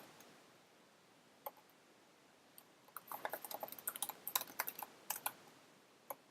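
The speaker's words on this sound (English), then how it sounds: "I should probably have copied this from YouTube instead of typing it over" Code being typed on a computer keyboard: sparse key taps at first, then a quick flurry of clicks, close and fairly quiet, with no voice.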